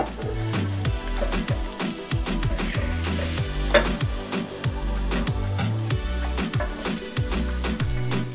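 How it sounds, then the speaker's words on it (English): Mushrooms sautéing in oil in a pan, a steady sizzle broken by repeated stirring and scraping strokes, close and fairly loud with no talking. "So I'm going to let the mushrooms cook down for a little bit."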